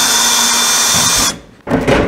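Power drill driving screws into RV J-wrap trim, a loud sustained whirring spin that stops briefly and then starts again with a short burst.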